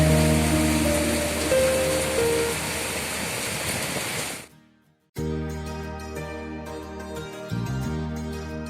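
Heavy monsoon rain pours in a dense, steady hiss, cuts out abruptly for a moment of near silence, then resumes just as loud and continuous.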